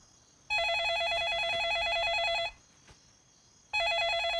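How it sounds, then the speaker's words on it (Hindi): After a number is dialed, a telephone rings on the line with a warbling electronic ring tone. Two bursts are heard, each about two seconds long, separated by a pause, clear and fairly close. "घंटी जा रही है।"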